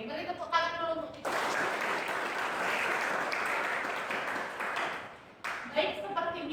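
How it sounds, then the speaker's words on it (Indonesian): A burst of applause from a university class, dense clapping lasting about four seconds, with a lecturer speaking briefly before and after. "beri tepuk tangan dulu untuk kita"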